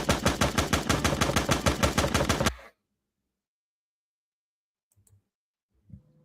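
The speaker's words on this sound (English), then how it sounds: "All I hear is gunshots." A rapid, even burst of gunshots fires for about two and a half seconds and then stops abruptly, followed by near silence and a couple of faint knocks.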